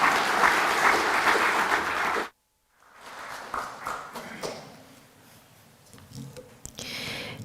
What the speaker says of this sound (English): Please, let's give another big round of applause, ladies and gentlemen.